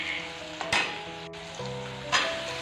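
Chopped onions sizzle steadily in a hot pan while an Assamese meat dish is cooked, with a few louder bursts of crackling as they are stirred, close and continuous, no voices.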